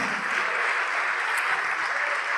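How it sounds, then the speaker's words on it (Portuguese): A church congregation claps together in a steady, even wash of applause during a Bible study service, moderately loud and continuous for a couple of seconds with no voices over it. "Então vem para frente e vamos aplaudir mais."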